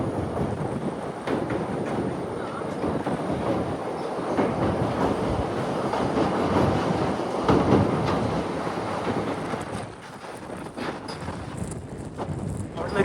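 Near and steady, the Boat Mail Express train rumbles and clatters across the Pamban bridge between Rameswaram and the mainland, its rolling rhythm continuous for the whole stretch with faint voices beneath.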